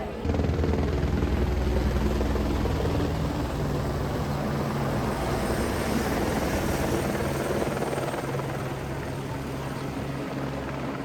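A helicopter runs at a mountain helipad serving the Mata Vaishno Devi pilgrimage, giving a loud, steady rotor and engine drone that fills the whole stretch without a break.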